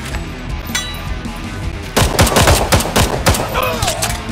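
Gunfire in the shooter video game Hard Bullet, a rapid burst of loud close shots in the second half, after quieter noisy game sounds.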